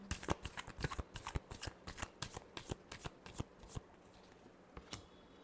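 Tarot cards are shuffled by hand in quick bursts of crisp riffling flaps, a dense irregular rhythm for about four seconds that thins to a few scattered slaps, close and fairly quiet.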